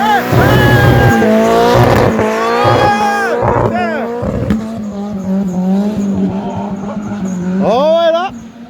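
A BMW 325 tds does a burnout, its engine revving hard while the tires squeal in loud, rising and falling wails, with excited voices talking and exclaiming nearby.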